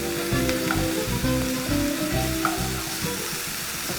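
Teriyaki beef for a noodle stir fry sizzles steadily in a hot pan, a dense continuous frying hiss with occasional stirring clinks, close and fairly loud with no voices.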